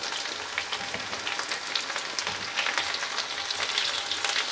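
Cauliflower florets frying with potatoes in a pan on medium heat, a continuous close crackling sizzle that swells slightly toward the end, with no speech.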